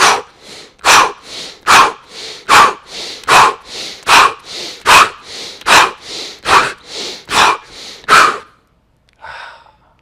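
Piston breathing exercise: a person pushes out about fifteen forceful breaths in a fast, steady rhythm, each one a loud, close, sharp exhale. The series ends in a pause, then one softer breath.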